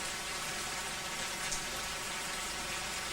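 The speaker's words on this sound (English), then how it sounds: "Not only is it raining, oh, yeah, it's only 12 degrees." Steady rain pours down on a cold, stormy day, a dense, even hiss of drops hitting surfaces with no pauses, moderately loud and close.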